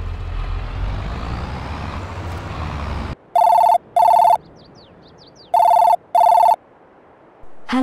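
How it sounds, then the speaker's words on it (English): A video game telephone rings in two pairs of bright electronic trills after loud engine rumble from a farm vehicle cuts out, clear and close with quiet pauses between the rings. "We're just going to wait for the phone to ring now."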